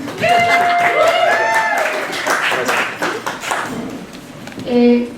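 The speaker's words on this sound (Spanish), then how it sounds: "Otro aplauso, por favor." Audience applause at a Wednesday talk event welcoming a guest artist, scattered clapping mixed with voices and a brief tonal ping near the end.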